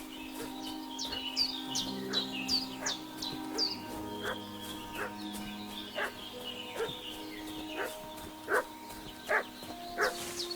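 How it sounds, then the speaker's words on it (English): Repeated barking of a dog in the medieval village game Kingdom Come Deliverance II, a series of short, sharp barks at a moderate distance over steady background music and bird chirps. "What's that dog making such a fuss about?"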